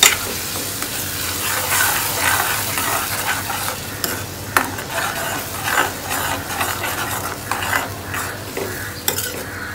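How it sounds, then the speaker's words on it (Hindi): Spices for dried pea chole roast in a pan, giving a loud continuous sizzle with repeated scraping and clinking stirring strokes, close up, without talking. "मसालों को हम लगातार चलाएंगे और इसको हम"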